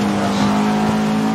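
An all-wheel drive car in the Forza 7 racing game passes by, its steady engine drone holding loud and close for the whole moment without letting up.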